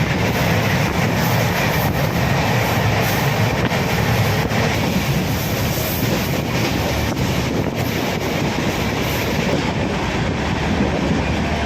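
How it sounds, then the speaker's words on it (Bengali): Passenger train out of Bolpur Shantiniketan station on the Sealdah line toward Malda Town, heard as a loud, steady rush of rolling wheels and wind that carries on without a break and with no voices. "আমাদের ট্রেন ছাড়লো বোলপুর শান্তিনিকেতন স্টেশন থেকে 12:44"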